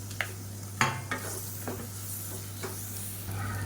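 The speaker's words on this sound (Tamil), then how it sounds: "இப்போ பாருங்கள் எண்ணெயில் நல்லா வதக்கியாச்சு" Tomatoes and broken green chillies sauté in oil for a biryani, a soft continuous sizzle broken by a few scraping stirs of a spoon against the pan, over a low steady hum.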